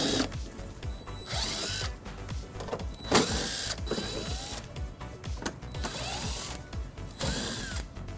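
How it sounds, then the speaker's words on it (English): Close-up ratcheting and buzzing of a socket wrench turning out 8mm bumper bolts on a 2009 BMW X5, in repeated short bursts with pauses between, no talking. "we're going to remove 6 bolts using an 8mm socket"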